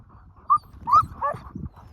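Sled dog giving a few short yelps and barks, close and fairly clear, spaced unevenly across a couple of seconds, with faint background rustle.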